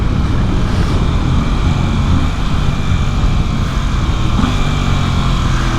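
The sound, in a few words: Ducati Hypermotard 950SP motorcycle engine on motorway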